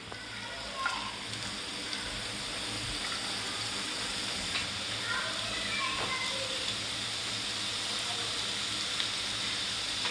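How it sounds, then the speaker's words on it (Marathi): Chopped onions sizzle and fry steadily in a hot pan at the start of dhaba-style egg bhurji, a continuous close crackling hiss with no one talking. "कांदा टाकून घेऊया सर्वात आधी"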